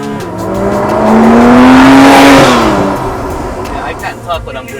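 A Porsche with a 7-speed automatic gearbox accelerates hard, its engine note climbing loudly to a peak and then easing off and fading, heard close from on board with brief talk near the end.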